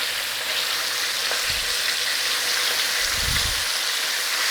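Chicken pieces stir-frying in a hot pan for a Mongolian chicken dish, a loud steady sizzle filling the whole stretch, with a couple of low thuds from moving the pan, no voices.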